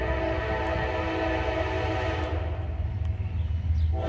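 A Norfolk Southern freight train passing a grade crossing in Lorain, Ohio, with a loud continuous low rumble of rolling cars and a sustained tonal horn-like drone, close by and steady.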